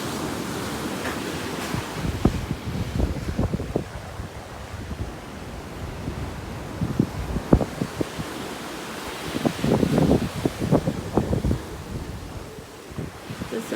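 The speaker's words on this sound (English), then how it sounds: "It's going to be a little windy out here" Steady wind roars across a beachfront at a resort in Antigua, mixed with ocean surf washing ashore and gusty buffeting against the microphone throughout.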